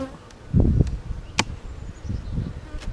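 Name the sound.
honeybees buzzing at an open beehive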